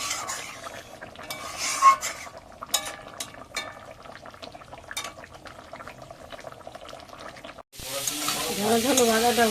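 A spicy curry with cumin, chilli and garam masala paste fries and is stirred in a pan, with scraping utensil strokes over a sizzle that swells louder near the end.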